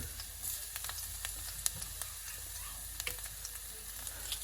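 Crushed garlic sizzles in hot sesame oil in a wok, a steady close frying hiss with small crackles and occasional sharper pops, with no talking.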